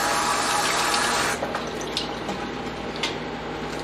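Water pours through a kitchen strainer with a loud, steady rushing splash that breaks up after the first second into dribbling trickles and drips; no one speaks.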